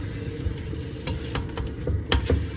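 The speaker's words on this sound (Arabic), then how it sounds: "غادي نقلي هاد البصيله مزيان تقلى" Three onions fry in a mix of regular oil and olive oil, giving a steady sizzle close by with several sharp scraping stirs against the pan.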